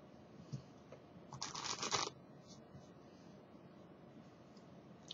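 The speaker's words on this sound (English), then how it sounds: "I'm going to be shuffling and cutting, shuffling and cutting, shuffling and cutting." A deck of playing cards is riffle-shuffled up close during a card-cutting demonstration, one brief crisp burst of fluttering cards lasting about half a second, set against a quiet room with faint handling noises.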